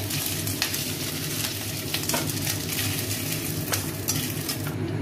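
Whole spices and potatoes for a fish-head chorchori sizzling in hot oil, with a dense continuous crackle close by and occasional sharp utensil clicks and scrapes over a low background hum.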